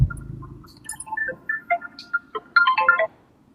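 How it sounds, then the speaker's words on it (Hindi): A melodic phone ringtone plays a short sequence of bright electronic tones, clear and close, with no talking. "के फोन बाजे लाग"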